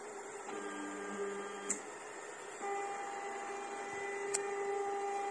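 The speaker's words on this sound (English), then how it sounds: "This printer starts auto leveling automatically." A SUNLU S9 Plus large 3D printer runs its auto leveling routine, a steady mechanical hum with whining stepper-motor tones that shift pitch as the head moves, plus a couple of small clicks.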